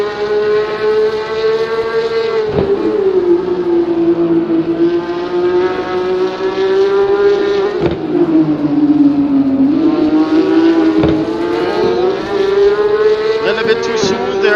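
A Porsche Cup race car engine at Road Atlanta whines loudly and steadily, its pitch rising and falling with gear changes and brief shift breaks, sustained throughout with faint commentary in the background.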